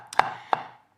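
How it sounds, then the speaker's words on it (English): A knife chopping cooled nuts on a board for satay, two sharp, close taps about a third of a second apart, with a faint lighter tap just before, in a quiet kitchen. "So what I'm going to do with these nuts, all you have to do is just cut it."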